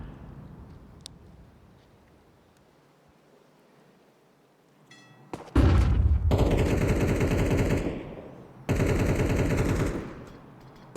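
Pistol gunfire in a Counter-Strike match rattles off in two loud, dense bursts of rapid shots after a quiet stretch, with a small click early on.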